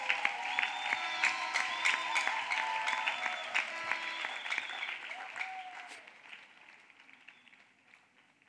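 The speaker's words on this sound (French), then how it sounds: "Let us clap for Jesus" Congregation at a bilingual French-English church service applauds for Jesus, a dense wave of clapping with a few cheers that slowly fades away over several seconds.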